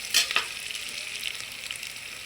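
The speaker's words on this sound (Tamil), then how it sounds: "இப்போ கொஞ்சம் வதங்கிடுச்சுங்க வெங்காயமும் பூண்டும்." Onions and garlic fry in a pan for sambar rice, giving a steady close sizzle with a couple of quick stirring scrapes near the start and no talking.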